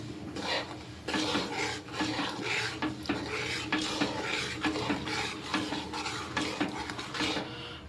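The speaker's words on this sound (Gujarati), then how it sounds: "તો જો આ બધું આપણે બરાબર મિક્સ કરી લેવાનું છે." Gundar paak ingredients stirred and mixed in a pan, with a spoon scraping against the metal in steady, repeated strokes. The sound is close and continuous, and nobody talks.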